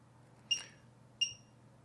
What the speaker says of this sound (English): Those two beeps should mean it's all worked.